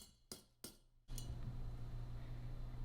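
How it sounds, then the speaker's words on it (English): Coins dropped into a coin jar: two sharp metallic clinks in quick succession, then a third impact followed by a steady low rumbling handling noise. "And then I will put some coins in the coin jar real quick."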